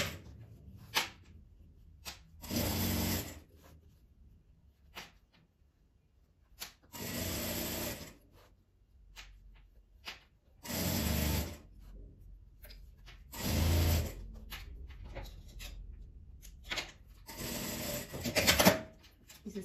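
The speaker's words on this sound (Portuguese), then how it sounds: "Aí que eu vou ir costurando e vou empurrando o meu mosquetão." A domestic sewing machine stitches a fabric clutch bag with a strap in short bursts of whirring, several runs separated by pauses, close and fairly loud with light handling rustle between.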